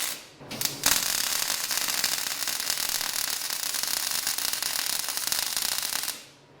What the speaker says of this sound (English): I love this welding